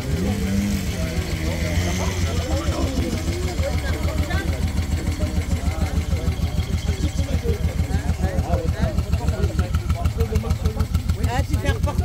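A 1960 Moto Guzzi V7 motorcycle idles at a vintage vehicle swap meet at a château, its engine giving a loud, close, steady rhythmic thumping that continues throughout with a faint crowd murmur around it.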